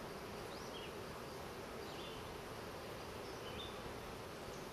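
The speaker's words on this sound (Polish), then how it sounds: "Większość pszczoły, trochę trutni." A dense, steady hum of many honey bees, mostly workers with some drones, buzzing together in a hive, constant and close, with no voices.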